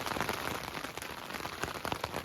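Steady rain patters on a tent during a backpacking trip between the Red Deer and Clearwater rivers, a dense, continuous hiss of close drops with scattered louder taps, no voices.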